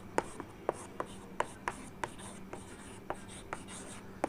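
Chalk or marker strokes on a classroom board during an English grammar lesson, a steady series of short scratchy taps and rubs spaced about every third of a second, close and alone without voices.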